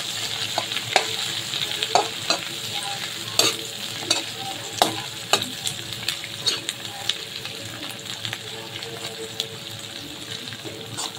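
Potatoes frying in a pan with dry-roasted spices about to join them, stirred in a steady sizzle broken by sharp scraping clicks of the spoon, close and fairly loud, with no talking.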